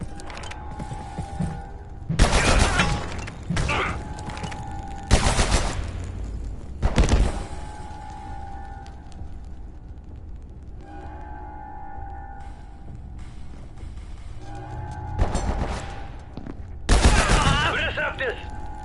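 Sniper gunfire in the video game Abiotic Factor, several loud bursts of shots at uneven intervals with game hums and mechanical sounds between them.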